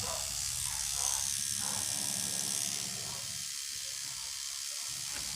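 A rotary tattoo machine bought online runs with a continuous, close, buzzing hiss that stays loud and even throughout.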